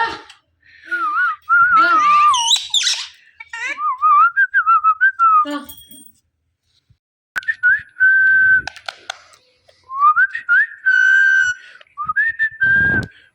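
An Indian Ringneck parrot gives a series of clear, close, warbling whistles and chirps in several bursts with short pauses between them. Some of the calls are scratchy, voice-like chatter.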